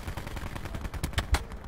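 Video game gunfire in Call of Duty Black Ops 4 crackles in a quick run of sharp shots that builds into several louder bursts near the end, with no talk.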